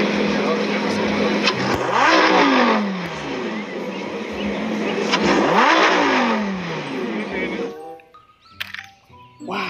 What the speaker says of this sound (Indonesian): Widih, mobil balap.